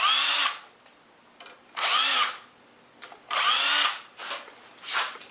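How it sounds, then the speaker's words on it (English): A power drill with a self-centering bit whirs in three bursts of about half a second each, drilling pilot holes to install a woodworking vise, with short pauses between them, close and fairly loud. "I can use a self-centering drill bit to drill some pilot holes"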